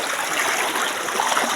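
Cold river water churns and rushes like a jacuzzi, a close, steady hiss of flowing, bubbling water with no breaks.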